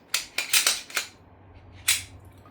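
A Glock 19 Gen 4 pistol is unloaded in a quick series of sharp metallic clicks and clacks, four close together and then one more after a pause, heard up close and alone.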